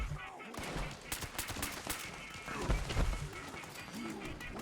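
Repeated gunfire in the video game Fallout 76, a dense run of loud sharp shots and bursts with a busy game soundscape underneath.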